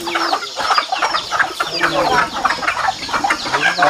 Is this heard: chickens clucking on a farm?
yes